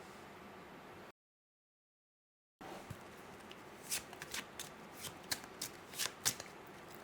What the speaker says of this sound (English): First, shuffle, cut the deck